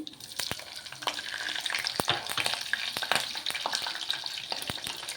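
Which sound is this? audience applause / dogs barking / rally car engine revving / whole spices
whole spices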